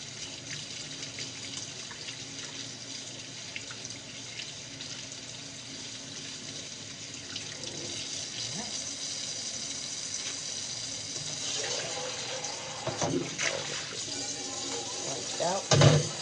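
Cool tap water runs steadily into a kitchen sink while raw chicken breasts are rinsed under it, a continuous splashing hiss with brief clatters and handling noises toward the end.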